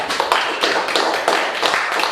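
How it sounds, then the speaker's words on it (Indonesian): A classroom of students clapping together on cue, a dense, steady patter of many hands with a few louder bursts, close by and carrying on for a couple of seconds without talk. "Tepuk tangan dulu."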